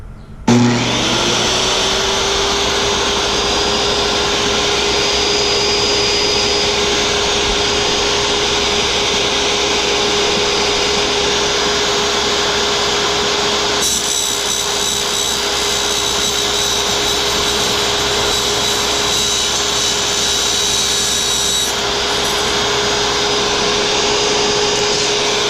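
A power saw runs loud and close with a steady high whine while its blade slowly cuts through an aluminum stair nose molding for laminate flooring. The grinding texture shifts partway through as the blade bites into the metal.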